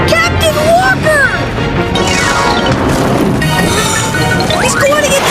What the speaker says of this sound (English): The ice is splitting the rock! The statue's breaking away from the mountain!